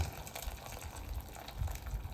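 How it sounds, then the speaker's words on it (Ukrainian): Boiling water poured from a kettle into a pot of pork knuckles, a faint, steady liquid splash and gurgle heard close up, with no talk. "Просто з чайника додаю кип'ячу воду вже."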